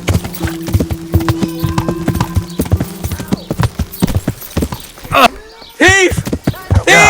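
Horse hooves clip-clopping at a steady gait in the medieval video game Kingdom Come: Deliverance, loud and close, with a whinny and shouting voices breaking in toward the end.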